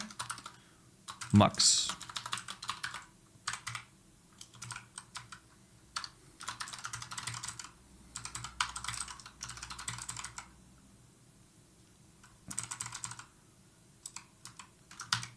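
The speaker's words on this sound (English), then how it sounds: "Keyboard, it's Razer Huntsman" Bursts of typing on a Razer Huntsman computer keyboard, close and crisp, in irregular runs separated by short pauses, with occasional speech in the background.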